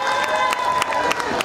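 Audience clapping at a hair oil product launch event, a steady dense patter of many hands lasting the whole short moment with a few sharper claps standing out, no speech over it.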